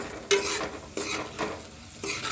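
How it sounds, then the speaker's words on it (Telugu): Onions frying with salt in a pan, stirred in short scraping bursts over a steady close sizzle, with no talking. "ఉల్లిగడ్డలు తొందరగా వేగుతాయి"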